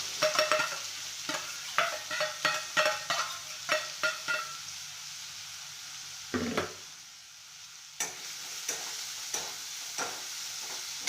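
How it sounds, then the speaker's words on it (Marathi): Cumin seeds hitting hot oil in a kadai give quick crackling bursts and light pops, close up. Gaps of near quiet fall between the bursts. "आता कढईमध्ये तेल टाकून फोडणीला जिरे टाकायचे आहे"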